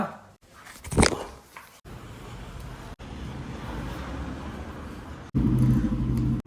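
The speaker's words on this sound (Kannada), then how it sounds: "ಸ್ವಲ್ಪ ಹೊತ್ತು ವಾರ್ಮ್ ಅಪ್ ಮಾಡೋಣ ಗಾಡಿನ" Vehicle engine idling while it warms up, a steady low rumble running through most of the stretch with a brief louder burst near the start and a heavier, deeper pulse toward the end.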